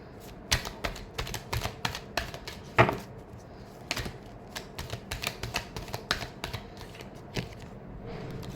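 A tarot deck is shuffled by hand, rapid crisp riffling clicks and flicks in uneven bursts, close and fairly quiet, ending in a softer rustle.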